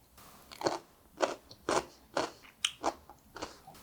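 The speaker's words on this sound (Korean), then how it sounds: "오이 피클인데 오이 피클의 그 맛인데 너무너무 아삭아삭해요." Close, crisp crunches of someone biting and chewing a crunchy homemade sweet-and-sour cucumber pickle, about seven sharp bites spaced unevenly in a quiet room.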